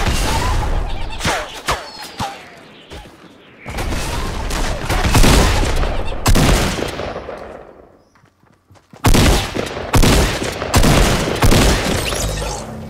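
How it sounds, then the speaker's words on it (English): Fortnite battle with loud, dense gunfire and heavy impacts in clustered bursts, a brief near-silent gap, then more shooting; no speech is heard. "I'm getting sniped at by two people."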